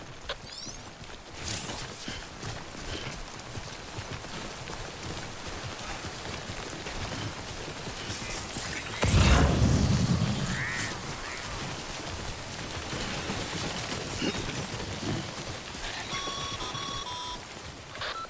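Steady rain falls in the video game Death Stranding, a constant hiss that runs the whole time, with one louder, heavier gust near the middle.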